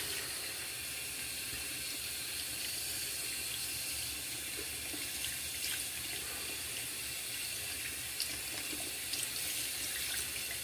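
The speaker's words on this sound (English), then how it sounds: "I turn on the tap water, full strength again, and I put my brush underneath the tap again and let it rinse out." A tap runs at full strength as a brush is rinsed beneath it, making a continuous, even hiss of splashing water that stays steady throughout.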